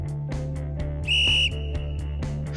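A game coach blows a whistle in one loud, shrill blast of about half a second, standing out over steady background music and thumping beats.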